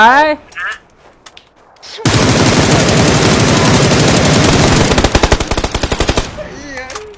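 Sustained automatic gunfire from a ranked match in an online shooter game, a dense, loud burst lasting several seconds that breaks into rapid separate shots before stopping, with a voice talking before and after.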